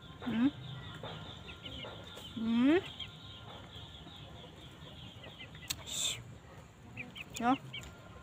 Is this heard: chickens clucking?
yes